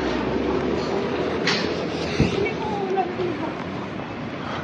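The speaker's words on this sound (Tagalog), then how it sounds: "I'm going to the MRT station, going to Songshan." Taipei MRT metro train at a station, a steady rumbling roar of the moving train with a brief clank and faint squeal, recorded close by.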